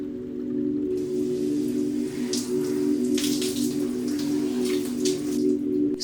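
Water from a home shower runs steadily, a soft hiss with scattered droplet spatter over a constant low hum, moderately quiet and unbroken for several seconds.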